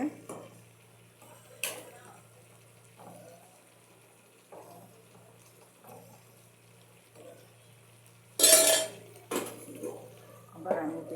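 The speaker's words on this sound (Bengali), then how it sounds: "এখানে একটু লাড়াচাড়া করে নেব" Pumpkin cooking in a pot is stirred with a utensil, giving sparse scrapes and metallic clinks over a faint steady hum, with one louder clattering burst near the end and no speech.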